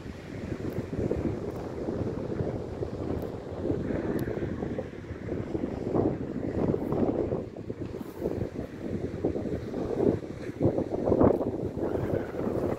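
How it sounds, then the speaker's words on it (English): Wind gusting across a microphone on a breezy, grey September day overlooking Glencairn Beach and False Bay in Cape Town, a continuous rough roar that swells and eases with no voices. "A breezy day."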